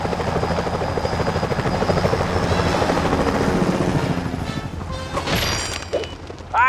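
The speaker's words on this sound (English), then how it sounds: "Those security choppers are bad news." Security helicopters in the video game Sly Cooper Thieves in Time, a loud, steady rotor chop throbbing throughout, joined near the end by sharp impact and crash effects.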